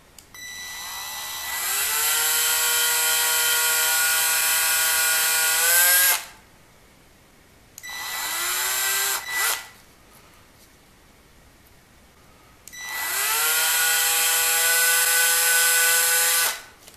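An electric drill whines loudly in three bursts, each spinning up to a steady high-pitched drone and winding down, with short quiet gaps between them, as a number 46 (0.081-inch) bit drills a hole in a Lego pneumatic switch.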